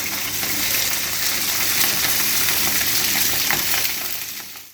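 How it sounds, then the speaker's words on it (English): Sausages browning in a hot frying pan give a steady, close broadband sizzle with faint spitting crackles, continuous throughout before fading slightly at the end. "While your sausages are browning in the pan"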